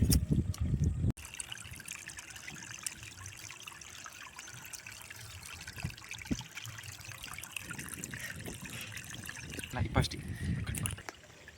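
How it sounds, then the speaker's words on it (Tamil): Crushed charcoal and sand are rinsed by hand in water for a homemade water purifier, with continuous close sloshing and trickling and a few louder splashes at the start and near the end. "இப்போ நம்ம இந்த கறிக்கட்டையும் மண்ணையும் நல்லா அலசி எடுக்க போகிறோம்."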